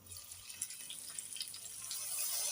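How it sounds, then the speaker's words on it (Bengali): Curry broth is poured into a pan, a short soft trickle of liquid that builds gently, close and fairly quiet, with a faint sizzle-like hiss in the background. "এবার আমি ঝোল দিয়ে দিব"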